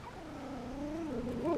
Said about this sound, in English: You hear how she's whining?